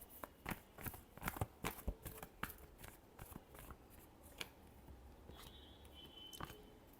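A deck of tarot cards being shuffled by hand, heard as a quiet, close run of crisp slaps and snaps in uneven bursts, thinning out toward the end.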